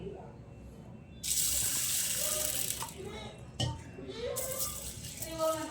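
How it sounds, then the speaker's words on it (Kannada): Urad dal lentils rinsed under a running tap in a bowl, a steady gush of water with grains rattling and sloshing, loud and close, with brief pauses between bursts. "ಇದನ್ನು ಒಂದು ಎರಡು ಸತಿ ನಾನು ವಾಶ್ ಮಾಡ್ಕೊಳ್ತಾ ಇದ್ದೀನಿ"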